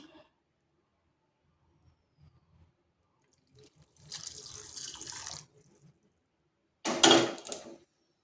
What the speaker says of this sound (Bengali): এরপর অর্ধেকটা চিনির সিরাপ এই মিষ্টির মধ্যে দিয়ে দিচ্ছি